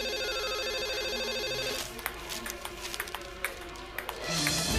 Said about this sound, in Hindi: चलो यार, अब देख भी लो किसका फोन है।